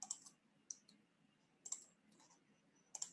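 Mouse clicks selecting a file in a computer program, several quiet, sharp clicks in small clusters spaced through a near-silent room.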